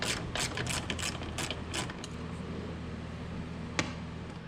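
A hand ratchet clicks in quick bursts while loosening front suspension nuts on a 2007-17 Jeep Compass, close and sharp, followed by a quieter lull with a single clank.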